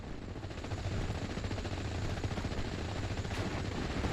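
Sustained rapid gunfire from troops in the Steel Division wargame, dense and continuous bursts with a steady low rumble, fairly loud throughout with no talk.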